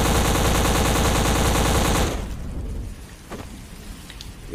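A sustained burst of automatic gunfire sprays in the shooter game BLACK, loud and rapid for about two seconds, then cuts off to quieter ambience with a few faint distant cracks.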